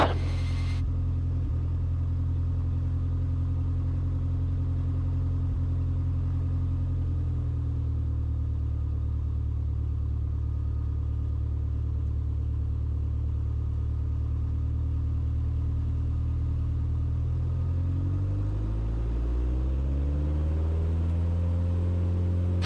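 A Mooney airplane engine at full power on the takeoff roll gives a loud, steady, deep droning rumble from inside the cabin, shifting in pitch partway through and again near the end, with no talking.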